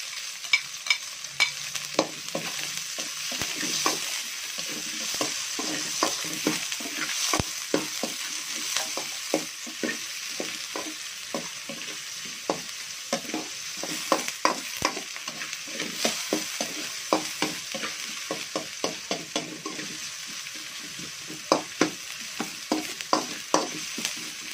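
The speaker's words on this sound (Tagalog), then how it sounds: "Sunod natin ilagay itong sibuya." Chopped onion sautés in a pan for spicy crab in coconut milk, a steady sizzle with frequent scraping stirs and clicks of a utensil, close and fairly quiet with no talking.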